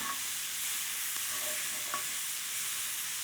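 Beef suqaar sizzles steadily in a pan, a bright continuous frying hiss with a couple of faint stirring taps, heard alone at moderate volume.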